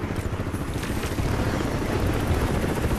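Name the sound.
helicopter approaching in Crysis 3 video game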